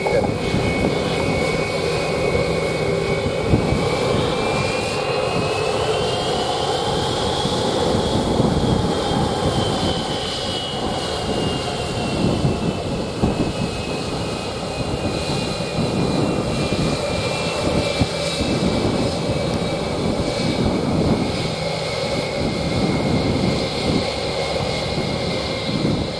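An airliner taking off at Montego Bay airport in Jamaica, a loud sustained engine roar with a rising then falling whine that holds steady throughout.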